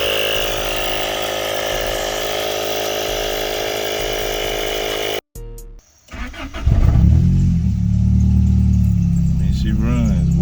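A Honda with a swapped F20B engine idles loudly and steadily, then cuts out abruptly. After a short gap a deeper, rougher engine note rises and keeps running, while people talk over it.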